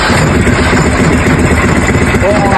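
An engine runs loud and close right after a starter replacement, a steady idling rumble throughout, with a voice talking over it.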